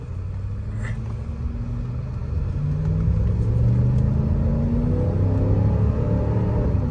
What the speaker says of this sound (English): I like the sound of the engine under there.